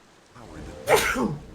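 A single sharp sneeze from a character in the game Dragon's Dogma: Dark Arisen, coming after a brief breathy intake, loud and close.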